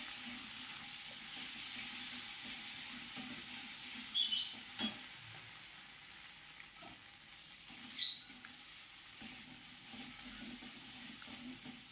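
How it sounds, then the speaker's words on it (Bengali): Fish stuffing frying in hot mustard oil in a wok, a quiet, steady sizzle with a few soft clatters of a spatula, close but low in level. "কড়াইতে সর্ষের তেল দিয়ে সেই তেল গরম হলে সেই পুরটাকে, মাছের পুরটাকে গরম তেলে দিয়ে দিলাম।"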